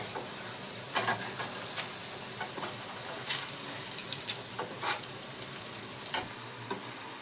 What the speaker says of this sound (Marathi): दोन तीन मिनटं असेच हलवून घ्यायचे सोनेरी कलर येईपर्यंत